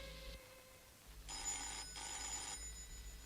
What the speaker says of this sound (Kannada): ಆವಾಗ್ಲಿಂದ ಫೋನ್ ಬಡ್ಕೊತಾ ಇದೆ ಯಾರು ಅಂತ ಕೇಳ್ಬಾರ್ದೇನೆ